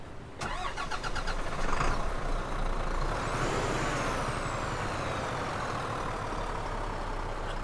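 An Iveco Stralis truck engine in a truck driving video game starts up with a sharp burst, then settles into a steady, loud idle rumble with a hissing air release partway through.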